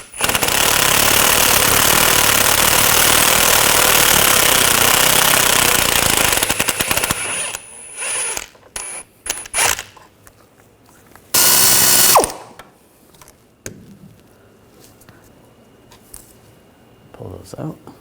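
A loud impact-style power tool hammers away at rear hub bolts on a 2013-2019 Ford Escape, a dense continuous rattling burst for several seconds, followed by shorter spurts and scattered clanks.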